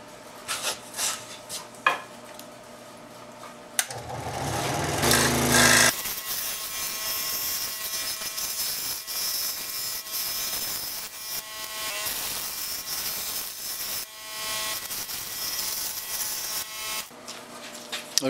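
A scroll saw cuts shapes from wood, a fast, steady buzzing rasp that starts after a few seconds of handling noise and runs close and continuous until near the end.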